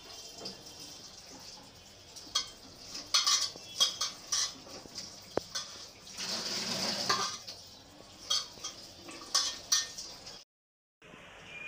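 Tomatoes, carrots, coriander leaves and green chillies being rinsed under running water, with intermittent clinks and clatter of dishes and utensils, soft splashing and drips, no talking, ending in a brief silence.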